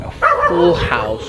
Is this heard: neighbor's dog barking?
yes